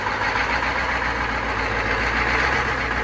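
An M998 Humvee engine idling close by, throttled down to a steady, even rumble that holds constant throughout with no talking.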